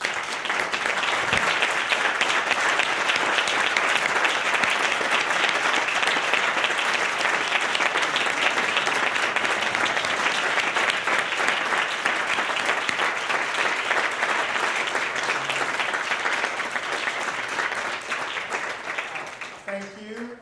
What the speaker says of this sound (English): some people were clapping their hands